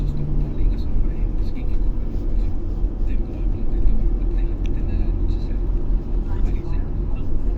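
A car cabin shakes over a tiny pothole on an otherwise smooth road, a steady low rumble and vibration filling the interior while someone talks.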